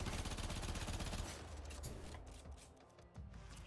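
Sustained burst of automatic gunfire from a full magazine being emptied in a video game, loud and dense for over a second before fading into quieter game ambience with a few trailing thuds.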